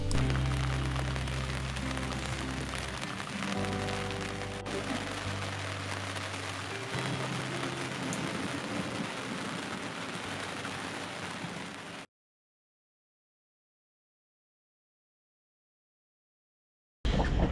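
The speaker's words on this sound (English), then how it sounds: "As soon as we were moored," Steady rain falls on a sailboat moored off the Mallorca coast, a dense, continuous patter with low rumbling beneath for about twelve seconds before a sudden cut to silence, then a brief return at the end.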